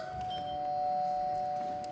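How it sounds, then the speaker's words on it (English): A doorbell rings during a stage play of The Wizard of Oz, sounding as a steady, sustained electronic tone that holds for about two seconds at moderate volume in a hall. "Who rang that bell?"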